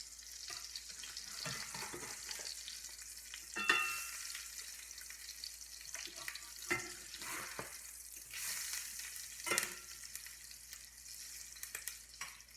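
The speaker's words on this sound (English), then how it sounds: "this is bacon fat that I'm frying this in" Soft, steady sizzling of duck eggs frying in bacon fat, with occasional crackles and light clinks of a utensil stirring in the pan.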